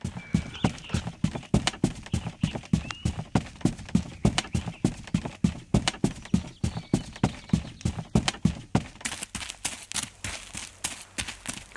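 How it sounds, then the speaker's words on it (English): Footsteps wading through deep water in a video game, played back as a Wwise footstep sound during a Unity play test: a steady, even run of close, soft splashing steps, alone with no talking. "Go find some deep water, and we'll go ahead and walk in our deep water."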